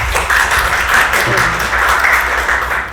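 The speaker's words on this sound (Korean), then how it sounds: "큰 박수로 부탁드리겠습니다." Audience applause at a university forum, a loud, full burst of many people clapping steadily for several seconds indoors.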